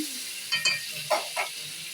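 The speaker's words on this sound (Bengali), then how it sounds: "ঢাকনা খুলে একটু নাড়িয়ে দিলাম।" Pointed gourd and potato pieces get stirred in a frying pan with the lid off, giving a few short scraping stirs over a soft, steady sizzle.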